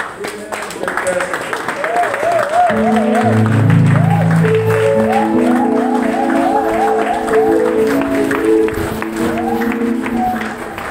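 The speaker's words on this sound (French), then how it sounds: "Mettez-vous debout avec des acclamations au Seigneur" A church congregation standing, applauding and cheering continuously, with voices shouting and a rising, wavering sung or sustained vocal tone mixed into the noisy, enthusiastic din.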